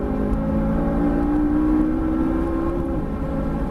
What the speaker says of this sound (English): How about that acceleration?